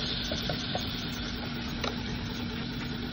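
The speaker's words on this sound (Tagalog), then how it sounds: "Slice it and then you saute the garlic" Sliced garlic sautéing in a pan, a steady soft sizzle with faint crackles and a low background hum, no talking.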